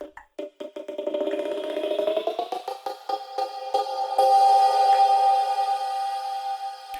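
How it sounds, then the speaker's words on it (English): Granular textures built from looped tongue drum samples start as rapid, stuttering fragments and settle into a sustained, shimmering metallic drone, up close with no voices. "And then we have these quote unquote granular sounds"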